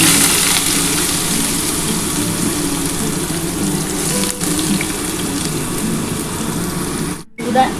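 Diced potatoes and spiny gourd (kakrol) drop into hot oil with black cumin seeds, raising a loud, steady, close-up hiss of frying that runs on without a break.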